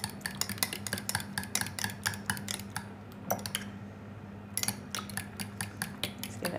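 Eggs and yolks are beaten in a bowl with a fork or whisk, producing rapid rhythmic clinks and taps against the bowl, close and clear, pausing briefly midway before resuming.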